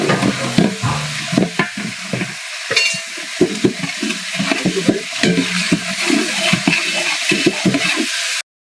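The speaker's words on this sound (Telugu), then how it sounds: "రెండు చెంచాలు అల్లం పేస్ట్ వేసి నూనెలో బాగా పచ్చివాసన పోయేంత వరకు" Ginger paste fries in oil in a large pot of sambar made for 100 people, a steady close sizzle broken by repeated scraping and stirring strokes of a spoon against the metal, with no talking.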